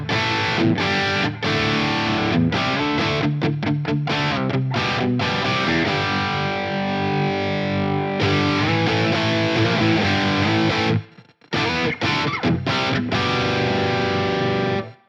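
Heavily distorted electric guitar chords through a ToneX Plug amp-modelling preset, loud and saturated, chugging with a few short gated pauses before ringing on.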